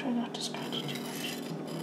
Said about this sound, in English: Just scratching the snot out of your pan.